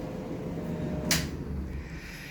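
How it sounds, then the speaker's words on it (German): A cabinet door in a kitchen in Uruguay shuts with a single short, faint knock against a low background hum. "hier ist eine Tür und die kann man dann zumachen"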